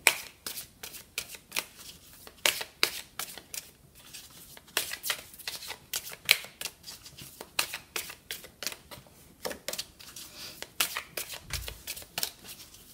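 Oracle cards are shuffled by hand in a steady run of quick, close riffling flutters and soft taps, repeating rhythmically throughout with no talk over them.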